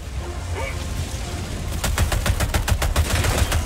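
Rapid automatic gunfire in the game Helldivers 2, a tight burst of about a dozen sharp shots in quick rhythm over a low rumbling battle backdrop, starting partway through and continuing to the end.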